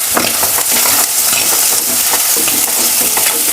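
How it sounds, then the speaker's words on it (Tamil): Masala with poppy seeds frying in oil, a loud, close crackling sizzle broken by rhythmic scraping strokes of a stirring spoon. "கசகசா போட்டதும் வந்து உடனே வறுந்துடும்"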